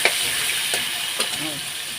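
Potatoes sizzle and fry in a pan while being stirred, a steady broadband crackle with a few sharp scrapes of the utensil, close and alone without talk.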